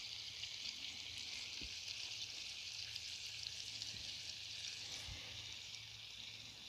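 Shrimp browning in a hot pan with butter and garlic give off a steady, close sizzle that holds evenly throughout, with a few soft clicks from the pan and no voices.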